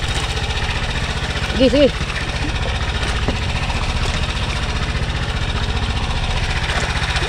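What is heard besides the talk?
boat engine idling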